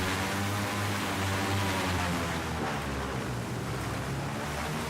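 In the Battlefield 4 video game, ocean waves wash around a boat with a steady, dense roar and a low engine-like rumble underneath, continuous throughout with no voices.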